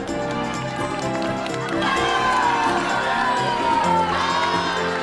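Korean middle school students on a school playground cheering, shouting and whooping loudly to welcome arriving visitors, a dense crowd of young voices swelling and rising in bursts.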